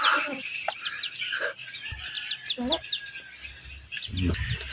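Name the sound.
chickens, hens and rooster, in backyard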